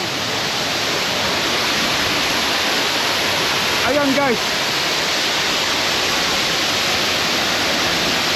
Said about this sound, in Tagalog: O oh, palakasan ng palakas yung mga alon.